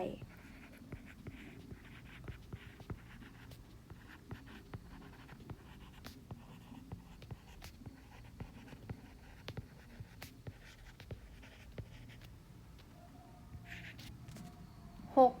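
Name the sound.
writing on paper during a math exercise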